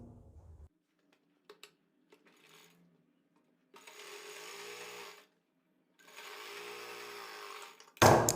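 A sewing machine stitches half-inch pintucks on a plain kurti in two separate runs of a second or so each, close and moderately loud, with quiet gaps and small handling clicks between them.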